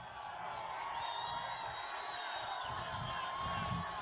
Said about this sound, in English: This is a big crowd.